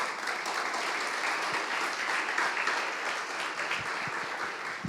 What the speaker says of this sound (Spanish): Dele un aplauso al Señor en esta hora.